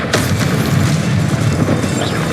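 A Confringo blast spell bursts with a loud, close explosive boom in the video game Hogwarts Legacy, followed by a rumbling crash that lingers for a couple of seconds.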